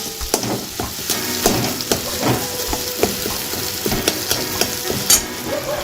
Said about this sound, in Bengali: ডিমটা দিয়ে এবার আমি ভালো করে মশলার সঙ্গে ভালো করে ঘেটে একদম সেই মিশিয়ে নিচ্ছি